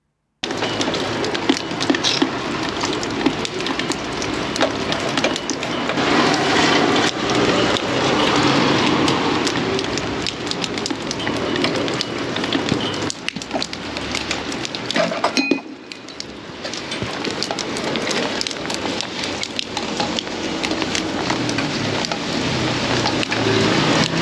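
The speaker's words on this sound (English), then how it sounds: "it is absolutely chucking it down with rain" Heavy rain pours steadily, a dense, loud hiss of drops hammering hard surfaces, with faint clinks mixed in; it briefly dips mid-way before resuming.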